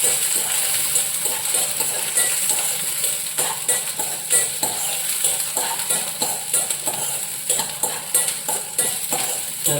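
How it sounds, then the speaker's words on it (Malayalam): Green chillies stirred in a pan for fish curry, with steady quick scraping and clinking strokes of a utensil over a constant sizzle, close and fairly loud. "പിന്നെ എരിവിന് ആവശ്യമുള്ള പച്ചമുളക് അതിടുക എന്നിട്ട് ഇത് നന്നായിട്ടൊന്ന് ഒന്ന് ഇളക്കുക"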